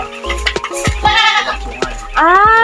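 Several goats on a farm in Umingan, Pangasinan bleat close by in short, wavering cries, one after another, with the last call loud and drawn out over a low background hum.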